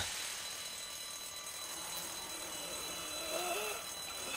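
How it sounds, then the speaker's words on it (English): An alarm going off inside a building in The Walking Dead video game: a steady electronic drone running continuously and fairly loud under a noisy background. "Why would the alarm be on?"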